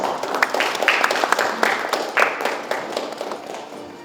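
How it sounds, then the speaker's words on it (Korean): Clapping rises at a formal appointment ceremony for an airport strategy working group, fairly close, irregular claps from a modest crowd, moderately loud and continuing for a few seconds. "큰 박수 부탁드립니다."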